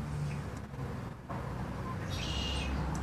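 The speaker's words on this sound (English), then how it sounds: "Today I am outside again with the lovely bird sounds" Birds singing outdoors in the morning sun, scattered chirps over a constant wash of background noise and distant traffic, with one brighter burst of calls near the end.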